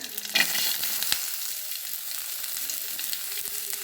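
Curry leaves and chopped onion fry in hot oil with a steady, close sizzle, a louder burst near the start and a few faint stirring clinks.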